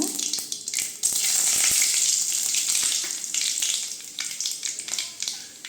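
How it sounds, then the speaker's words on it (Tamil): Dried red chillies fry in hot oil for a Tamil spinach kadaiyal, giving a bright continuous sizzle with crackles and small pops, close and fairly loud. "இப்போ காஞ்ச மிளகாய் சேர்த்துக்கலாங்க"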